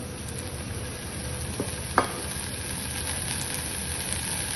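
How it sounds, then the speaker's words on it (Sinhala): Oil heating in a pan for Sri Lankan kalu pol maluwa gives a low steady sizzle and hiss, with a spoon stirring and one sharp clink near the middle, no voices. "හොඳට තෙල් ටික රත් වෙනකන් පොඩ්ඩක් කවලම් කරලා"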